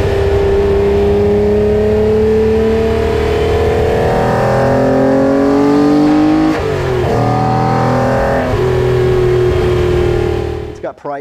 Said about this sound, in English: the noise this car makes is just sensational.